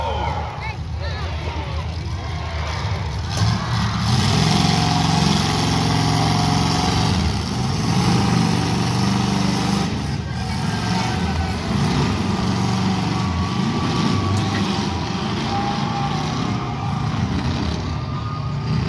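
A 1948 Ford truck, the Blue Bullet, at a tuff trucks event: a loud, sustained engine roar with shifting pitch as it drives, with announcer talk and crowd noise over it.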